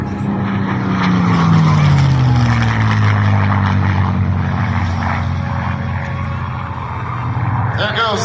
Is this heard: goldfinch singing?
no